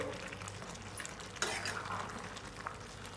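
Carrot halwa cooked down in milk with cashews and cardamom, stirred in a pan with soft scraping and a gentle bubbling sizzle, close and steady with a few sharper spoon knocks.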